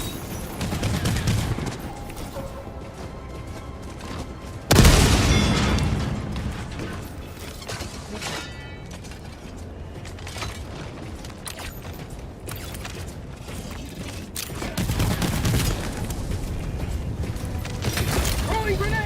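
A napalm strike in the Helldivers 2 video game erupts as a sudden loud blast, followed by a long crackling, roaring burn and scattered further explosions, with a voice talking over the chaos.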